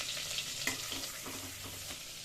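Cumin seeds sizzling in hot butter and oil for pav bhaji, a soft steady crackle with faint stirring taps, quiet and close with no talking.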